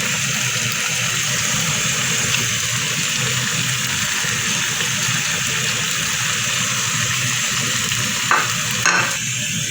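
Fava beans frying and being stirred in a pan give a steady, close sizzle with continuous scraping, and a couple of sharper clinks come near the end.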